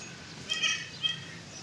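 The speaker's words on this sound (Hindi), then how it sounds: "और दूध वाली बकरी है ये।" A dairy goat at a livestock market lets out a couple of short, thin bleats close by, the first slightly longer, with faint market background behind.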